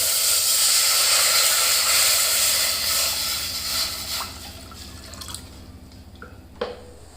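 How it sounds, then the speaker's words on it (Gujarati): A pot of water boils on a gas stove with a loud, hissing bubble that fades away, followed by quiet and a few soft drips and clinks. "આપણું પાણી ઉકળી ગયું છે"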